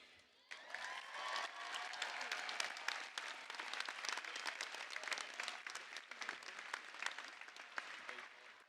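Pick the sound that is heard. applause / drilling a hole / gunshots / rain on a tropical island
applause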